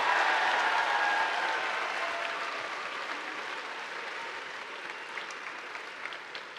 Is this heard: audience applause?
yes